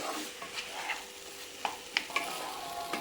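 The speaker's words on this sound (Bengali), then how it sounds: "এবার আমি ভালো করে কষিয়ে নেব একটু কষিয়ে নিতে হবে কষিয়ে ডাল রান্না করলে ডালের স্বাদটা বাড়ে" Masoor dal being sautéed with salt in a pan, a soft sizzle under intermittent scraping stirs and a few sharp spoon clicks against the pan, close and fairly quiet.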